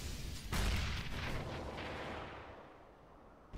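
In Counter-Strike, a grenade goes off with a sudden booming blast about half a second in, then rolls into a decaying rumble and fades out over the next few seconds.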